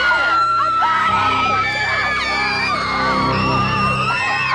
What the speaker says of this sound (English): the park guests see a dead body and like a woman screaming